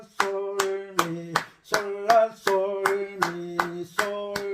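Sharp hand claps keep a steady, even beat roughly every three quarters of a second during an electronic organ rhythm lesson, each clap landing with a voice singing solfège note names.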